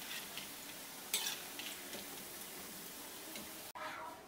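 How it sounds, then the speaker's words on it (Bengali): Fried cauliflower masala pakoras being lifted from hot oil and drained, a steady crackling sizzle with a few metal scraping clinks, one sharper clatter midway and a brief break near the end. "তেলটাকে ভালো করে ঝরিয়ে নিয়ে তুলে নিচ্ছি।"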